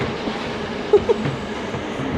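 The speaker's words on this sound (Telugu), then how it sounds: "That's a goods train." Goods train of container wagons rolling past in Blacktown, Australia, a steady rumbling wash of wheels and wagons with a couple of brief metallic clicks.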